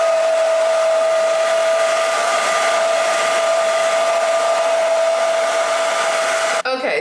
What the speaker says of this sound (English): I'm just gonna blow dry this because that lace tint is a little wet